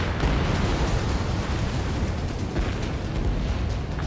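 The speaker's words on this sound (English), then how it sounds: "Spare 15, launching missile." A missile launch and explosion in the jet combat game Ace Combat 7 Skies Unknown, heard as a loud, sustained rumbling roar with no clear breaks and no voices.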